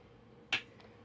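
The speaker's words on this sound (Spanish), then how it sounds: "Un aplauso así, simplemente un aplauso." A single sharp hand clap rings out in a quiet room, brief and crisp, followed by a faint echo.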